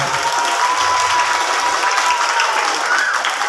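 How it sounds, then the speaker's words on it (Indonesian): Loud, sustained applause from a crowd at a Kartini Day school ceremony honouring the officers, a dense, even wash of clapping that holds steady throughout. "Pertama-tama marilah kita beri tepuk tangan dulu nih buat para petugas Kartini kita yang hebat ya"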